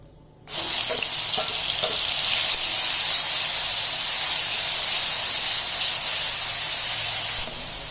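Onions sizzle steadily in hot oil for naan preparation, a loud continuous hiss that starts abruptly and holds with no talk.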